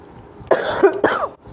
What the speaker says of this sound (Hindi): खांसी हो गई है बहुत ज़्यादा